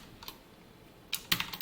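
Quick keystrokes on a computer keyboard while coding HTML: a couple of light taps, a pause, then a close burst of several clicks.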